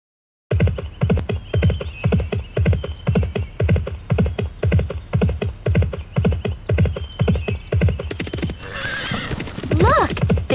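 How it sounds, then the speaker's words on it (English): A horse in the video game Barbie: Race & Ride trots with steady, rhythmic clip-clop hoofbeats for most of the stretch, then lets out a loud, close whinny near the end. "There's another horse."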